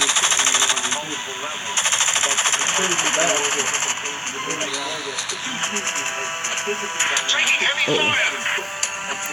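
Rapid rattling aircraft machine-gun fire in the War Wings video game, hammering steadily and loud under a droning engine, with a player talking over it.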